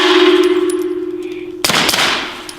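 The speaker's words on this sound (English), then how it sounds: "Man, the targets ring so loud when you shoot them." A suppressed M9A3 pistol round strikes a metal propane tank, giving one sharp metallic clang that cuts through a lingering ringing tone and decays with a short resonant ring.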